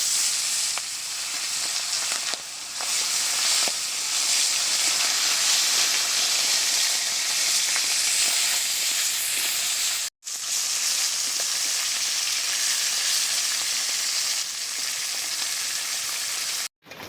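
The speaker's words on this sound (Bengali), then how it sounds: "তেলটা খুব ভালোভাবে গরম করে নিয়েছি, মাছ দিয়ে দিচ্ছি।" Freshly caught pond fish seasoned with salt and turmeric fry in well-heated oil, giving a loud, steady, hissing sizzle close by, broken by two brief silent cuts.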